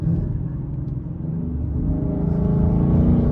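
Ford Mustang in Sport Plus mode downshifting with the paddle shifter, a low engine rumble that rises steadily in pitch and loudness as the revs climb, close and continuous.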